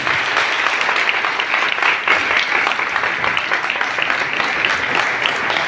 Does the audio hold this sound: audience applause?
yes